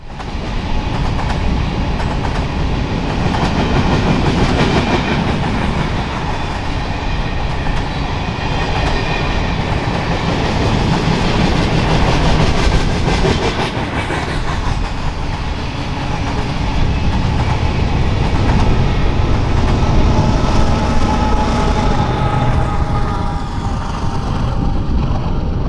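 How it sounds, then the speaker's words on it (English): Heavy BNSF freight locomotives hauling a grain train roar loudly and continuously as they labor uphill on the Lakeside Subdivision in eastern Washington, with deep engine rumble and rattling rail noise throughout. "it is clear that the motors on the grain train are pulling hard on the climb."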